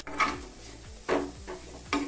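Fish and spices fry in a pan over low gas heat for a Bengali fish kachuri filling, with a soft sizzle under three distinct scraping stirs of a spoon against the pan, close and fairly quiet.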